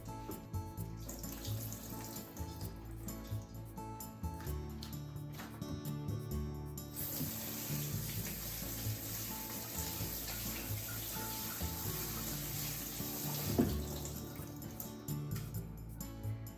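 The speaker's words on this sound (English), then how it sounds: "Shirataki noodles. It's in water, so let's drain and rinse." Shirataki noodles are drained and rinsed under a running kitchen tap, a continuous close hiss of water splashing into the sink that grows fuller partway through and carries on steadily without voices.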